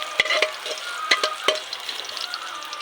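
Garlic sautés in a pan with a light crackling sizzle and a few sharp scraping stirs, close and alone.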